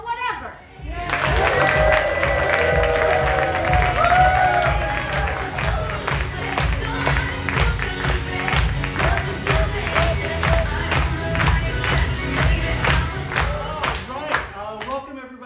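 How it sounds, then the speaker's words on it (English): A crowd at a Pride Weekend show applauds and cheers to welcome a performing group on stage, sustained clapping mixed with shouts and whoops that stay loud and full for the whole stretch, with voices calling out through it. "let's give a big round of applause and let everybody hear us for Whatever"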